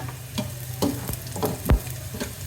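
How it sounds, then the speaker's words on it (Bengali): Onions frying in hot oil in a pot for chicken biryani, sizzling steadily up close with a few clanking stirs of a spoon against the pot, and no voices. "পেঁয়াজটা ভেজে নেবো"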